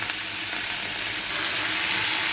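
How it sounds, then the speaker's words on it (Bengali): Chili and tomato sauté in hot oil with a loud, steady hiss and crackle, close and continuous without pause. "এবার এটাকে ভালো করে সাঁতলাবো।"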